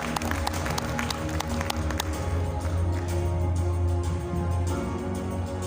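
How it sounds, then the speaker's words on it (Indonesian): An audience at a university innovation and business summit in a Shangri-La hotel ballroom claps steadily, the applause mixed with a low hum and a faint voice beneath it. "Tepuk tangan yang paling meriah."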